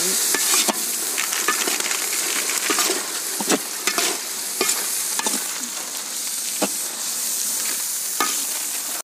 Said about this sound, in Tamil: ஸ்பெஷல் மிளகாத்தூள் போட்டு நல்லா மிக்ஸ் பண்ணுவோம்